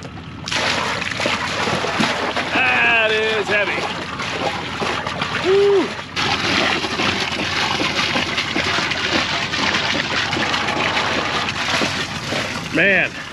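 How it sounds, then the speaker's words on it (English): Water sloshes and splashes in containers as they are hauled by hand to stand in for a dead well, a steady nearby rush with brief tonal squeaks over it. "Hauling a little water, just getting everything ready"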